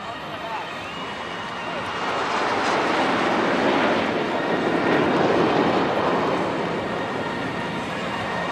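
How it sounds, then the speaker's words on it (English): Indian Air Force jets fly in formation at an air show over Marina Beach, Chennai, their broad engine roar swelling to a loud peak midway and then easing off slightly. "You will see the aircraft forming the shape of the English letter A."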